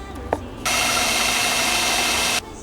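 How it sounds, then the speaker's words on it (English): A power drill boring a bigger hole through a headlight housing, a loud, steady high whine that starts abruptly after a couple of brief knocks and runs for under two seconds, close up. "move on to a bigger drill"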